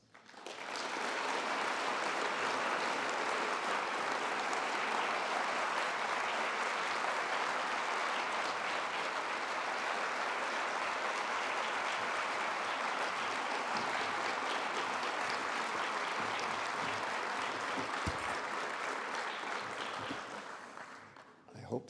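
Sustained audience applause welcoming Cardinal Michael Czerny at a lecture, a dense, steady wash of many hands clapping at full volume for about twenty seconds before trailing off.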